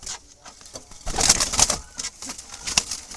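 A black male Jalali wild pigeon, kept in a basket beside a nesting bird, gives several deep, soft coos close by, mixed with faint rustling and no voices.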